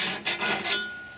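The flat side of a metal file rasps along the edge of a garden shovel in three quick, close strokes, each a harsh scraping burst, then a fainter trailing rub.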